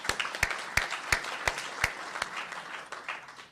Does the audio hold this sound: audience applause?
yes